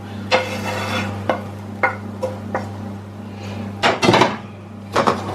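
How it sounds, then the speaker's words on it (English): Cooked leeks, onions, garlic and bacon are stirred into potatoes in a pot, with a series of scraping and knocking utensil strokes against the cookware, irregular and close, over a steady low kitchen hum. "Give that lot a bit of a mix"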